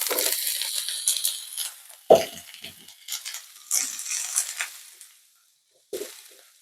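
Broccoli hitting about a tablespoon of hot oil in a pan over medium-high heat, a crackling sizzle with a sharp clatter as it drops in, fading to quieter frying hiss.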